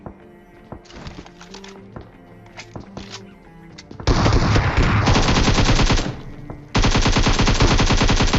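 Uzi gunfire in a battle royale video game comes first as scattered shots and thuds, then as loud, sustained rapid automatic bursts with a brief gap between the two long volleys.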